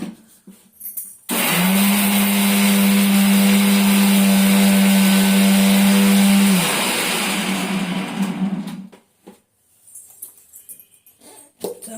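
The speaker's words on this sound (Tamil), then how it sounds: "மிக்ஸியில் அரைக்க வேண்டிய பொருள் இவ்வளோதான்." A mixer grinder blending ginger, garlic, fennel, cloves, chilies and shallots for biryani: a loud, steady motor whine for about five seconds, then winding down and rattling to a stop.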